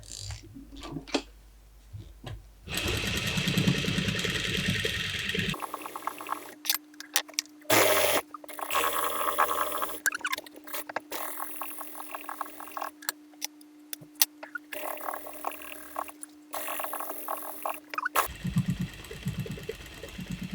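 A sewing machine stitches patchwork pieces in bursts, its steady mechanical hum running for several seconds at a time between short pauses and handling noises, close and moderately loud with no talk.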